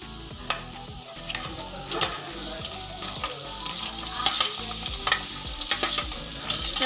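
Onions sizzle steadily while being stirred in a pan for poha, with a constant hiss and frequent scraping, clattering strokes of the spoon against the metal, close up and with no talking.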